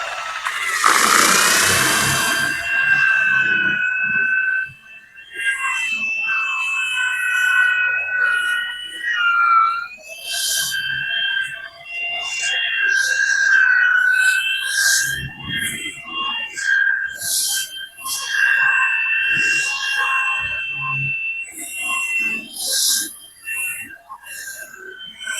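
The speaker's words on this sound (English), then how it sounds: "This is 40 grit on an old school 2-speed buffer" Old two-speed buffer with 40 grit working Buick Skylark paint, a whining, shifting high-pitched tone that rises and dips over nearly the whole stretch, with someone talking over it.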